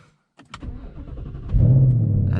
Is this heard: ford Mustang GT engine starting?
yes